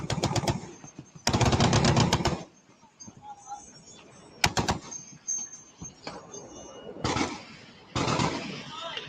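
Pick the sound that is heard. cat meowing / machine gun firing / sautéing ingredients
machine gun firing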